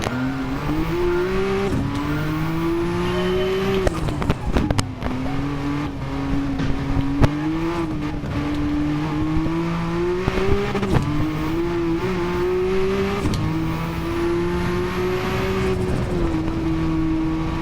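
A Porsche 962 race car roars loudly through a fast lap, its engine pitch climbing through each gear then dropping with every upshift, with a few sharp clunks along the way and no talking.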